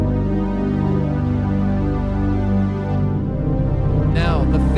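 A lush JP8-style synth pad on a Roland FA series workstation, sustained warm chords with rich layered harmonics held steadily, then shifting to a new voicing near the end, with a faint bright sweep.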